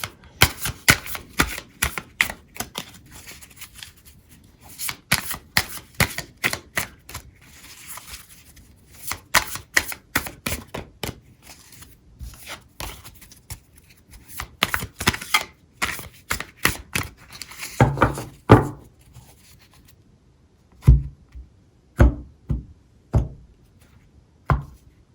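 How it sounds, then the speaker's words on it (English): Tarot advice cards being shuffled by hand, bursts of rapid papery riffling and snapping clustered in runs, close and crisp, separated by short pauses, then a few isolated sharp taps as cards are set down toward the end. "I'm going to go ahead and shuffle out some advice cards for you"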